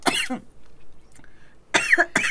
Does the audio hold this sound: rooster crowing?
no